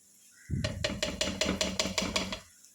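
A spoon or spatula knocks against a pan about a dozen times in a steady rhythm while Schezwan sauce and egg noodles are stirred together. The clattery metallic taps are close and moderately loud, then stop.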